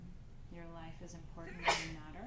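A single sharp sneeze bursts out partway through calm, soft-spoken guidance in an evening full moon ritual circle, with the voice continuing before and after it.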